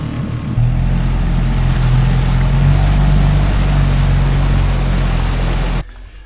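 A dinghy's outboard motor drones steadily and loudly at low speed on the water off a town on Turkey's south coast, then cuts off abruptly near the end.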